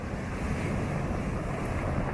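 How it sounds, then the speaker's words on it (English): Ocean waves pound the rocky Maine shoreline near Portland Head Light in a continuous low roar of surf. Heavy wind buffets the microphone, and no one speaks. "as the water just relentlessly beats into the shoreline here"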